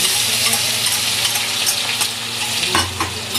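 Crushed garlic, whole coriander seeds, cardamom and cloves frying in oil for a Bihari-style egg curry, a loud, dense, crackling sizzle close up, with a low hum and a scrape of stirring near the end.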